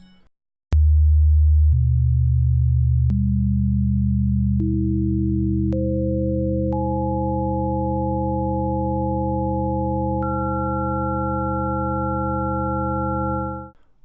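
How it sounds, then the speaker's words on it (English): Pure sine tones tuned to a golden ratio scale enter one after another, each new pitch stacking above the last until seven steady tones sustain together, then all stop abruptly. "When we hear 7 Phi tones, there is no harmonic distortion between the tones."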